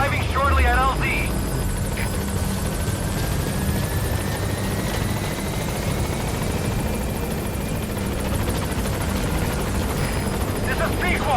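Support helicopter arriving at a landing zone in Metal Gear Solid 5, a steady loud rotor drone that fills the whole stretch, with brief radio voices speaking at the start and end.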